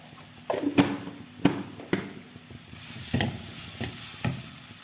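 Spices frying in a pan for rajma masala, stirred with a spoon: a sizzling bed under sharp scraping taps at irregular intervals, close and fairly loud, without speech.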